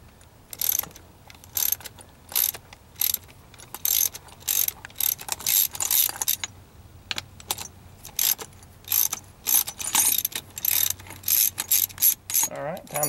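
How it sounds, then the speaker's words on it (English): A steering wheel puller is taken off with a ratchet: bursts of rapid, close metallic clicking repeat with short pauses between them. "Taking our steering wheel puller back off."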